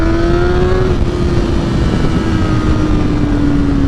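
A BMW M1000R motorcycle engine pulls hard while riding, holding a loud, steady high-revving drone whose pitch climbs slowly, with rushing wind noise underneath and no talk.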